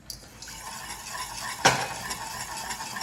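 A spoon works a ghee Mysore pak mixture of gram flour and sugar in a pan over medium-high flame, with soft steady scraping and light sizzle, one sharp metallic clink, and no talk.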